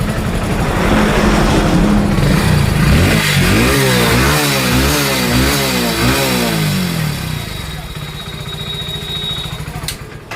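Hero Splendor Plus BS6 motorcycle engine with an exhaust sound problem, heard running close with a steady idle, then a series of rhythmic revs rising and falling before settling back.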